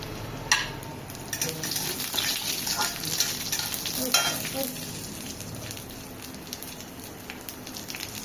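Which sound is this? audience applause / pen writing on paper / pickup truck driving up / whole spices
whole spices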